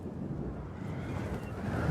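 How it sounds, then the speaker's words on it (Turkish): Wind blows strongly in the video game Dying Light 2, a continuous rushing gust that grows slightly stronger toward the end. "Burada bayağı bir rüzgar esiyor ama."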